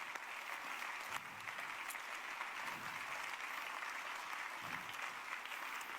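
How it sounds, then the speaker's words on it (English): Continuous applause from a crowd, a dense, even patter of many hands clapping, heard faintly from a distance. "Let's clap them in."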